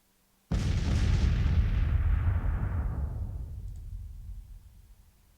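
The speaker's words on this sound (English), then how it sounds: "Our artillery is opening up." Artillery fire in the Civil War strategy game Grand Tactician: a single heavy boom bursts in after half a second of quiet, then a long rumbling roll that slowly fades over roughly five seconds.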